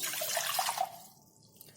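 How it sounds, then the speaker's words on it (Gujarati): About 500 ml of water pours and splashes into a pot for about a second, then tapers off into quiet trickling and near silence. "2 વાટકી જેટલું પાણી આ એક વાસણમાં લઈ લઈશું"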